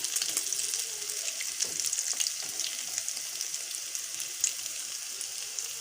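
Chana dal and potato kebabs sizzle steadily in hot oil in a pan, a close, continuous crackling fry with occasional soft pops and no voices.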